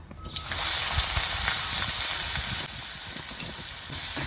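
Finely chopped large onion drops into hot oil in a pan and sizzles loudly and steadily, a bright continuous crackle with no talking.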